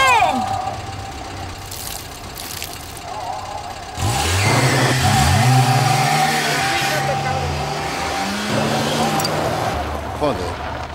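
A car engine revs up and pulls away, rising and falling in pitch across several seconds, loud and close, with people talking and shouting over it in a short film scene.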